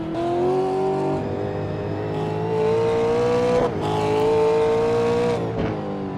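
V8 touring race cars in a racing simulator at Portland, a steady loud engine drone with rising and falling pitch as the cars shift gears and accelerate, with no talk.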